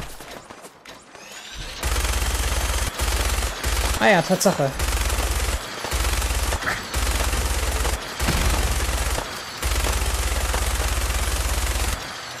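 Minigun fire in Fallout 4, loud sustained bursts of rapid gunfire with brief pauses between volleys and a low rumbling roar, close up; someone speaks briefly over the shooting.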